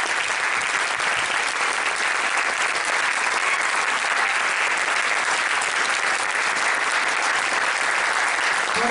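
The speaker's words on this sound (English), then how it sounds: "Let's give them a round of applause." Steady, dense audience applause for a university jazz big band at a concert, loud and continuous throughout without a break.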